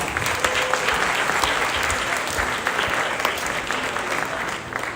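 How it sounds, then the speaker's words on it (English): An audience at a dance program breaks into dense, sustained applause, many hands clapping loudly and steadily for the full stretch, with a faint crowd murmur underneath. "Please join me in giving them another big round of applause."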